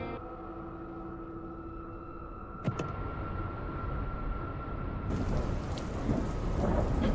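Steady rain pours in the video game Dustland Delivery, with a sharp thunder crack partway through and the downpour growing heavier toward the end, no voices.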